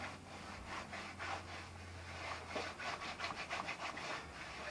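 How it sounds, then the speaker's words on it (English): A rag rubs and wipes along the channel of a greenhouse roof panel, giving repeated scrubbing strokes in quick rhythmic bursts, close and moderately loud, with no talking. "I'm gonna take a rag and I'm gonna clean that out."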